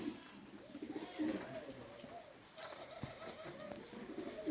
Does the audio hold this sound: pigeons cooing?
yes